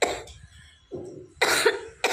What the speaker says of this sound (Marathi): खोकल्याने परेशान होऊ नये